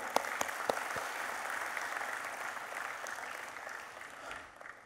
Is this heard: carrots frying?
no